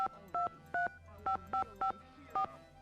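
A telephone number is dialed in a Nancy Drew game, with eight evenly spaced touch-tone beeps, each short, clear and close, with faint room tone between them.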